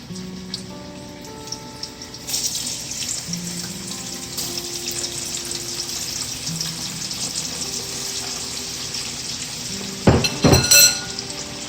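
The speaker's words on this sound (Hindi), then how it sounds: "चिप्स फ्राई कर लेते हैं" Steady sizzling of potato chips deep frying in hot oil, a continuous crackle with a few louder clattering stirs near the end.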